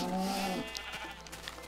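A Minecraft sheep gives a single short bleat, fairly faint and alone, followed by a few soft ambient game ticks.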